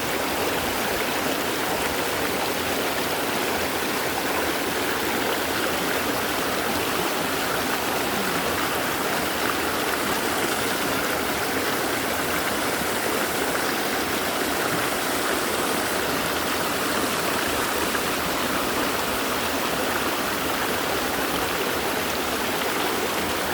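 Steady rushing water from a flowing stream at Yellow Dragon River, Hong Kong, continuous broadband hiss with no pauses; faint cricket chirping sits within the wash.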